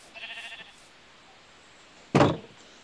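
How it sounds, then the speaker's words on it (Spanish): Minecraft sheep in a pen bleat once faintly at first, then give a louder, short bleat near the end, over a quiet game background. "Miren, tenemos un corral de ovejas."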